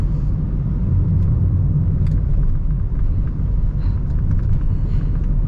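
Hyundai Accent hatchback CRDi diesel with manual gearbox driving on the road, a steady loud low engine and road rumble filling the cabin throughout, with no talking.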